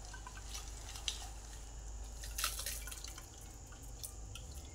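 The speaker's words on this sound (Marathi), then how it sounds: "ह्याच्यामध्ये टाकणार आहे थोडंसं पाणी आणि चाळणीवर आपण शोधून घ्यायचं आहे" Water is poured through a sieve over ground crab claws in a home kitchen, giving a faint, continuous trickle with scattered drips and small splashes, and no speech.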